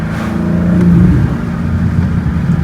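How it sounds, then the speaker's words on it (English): A manual BMW M4 accelerates hard from inside the cabin, its engine giving a loud, throaty roar that swells and then holds a steady rumble, with no talking. "Driving the manual M4. So fast."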